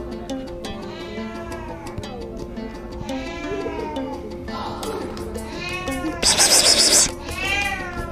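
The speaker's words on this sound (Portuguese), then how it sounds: "estamos escutando ele miando ali, mas não conseguimos ver" A cat trapped behind bricks gives repeated plaintive meows, each one clear and fairly close, with a burst of hissy scraping noise partway through and brief bits of talk in between.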